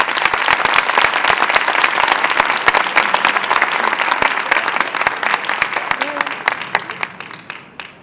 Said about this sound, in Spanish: Les pido un aplauso para él.